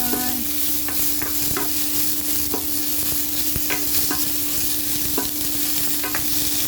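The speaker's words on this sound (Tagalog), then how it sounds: "Lagay na natin yung ating gulay." Vegetables stir-fried with ginger and garlic in a pan: a constant, close hiss of frying punctuated by frequent clicks and scrapes of a spatula, with a steady low hum throughout.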